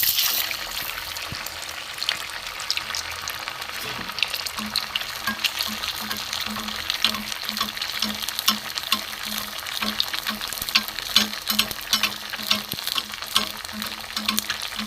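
Cauliflower semolina fritters crackle and bubble as they deep-fry in hot oil, a steady close sizzle with scattered pops and faint clinks of a spatula, no voices.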